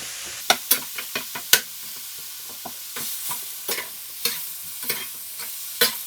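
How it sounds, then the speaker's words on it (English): Minced lamb is mashed and fried in a pan without added oil, cooking in its own fat after browned onion. A soft sizzle runs underneath while sharp, irregular scrapes and knocks of the utensil pressing the meat come through close and clear. "we're going to put the lamb on. Lamb goes on. Mashing the lamb."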